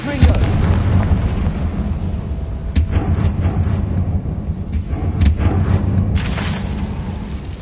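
A Confringo spell blast in the video game Hogwarts Legacy booms loudly with rumbling explosive force, joined by a few sharp crackling bursts over a continuous heavy low roar.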